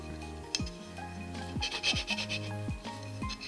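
Repeated rasping strokes of sanding cured resin, several short scrapes in an uneven rhythm, close and moderately loud.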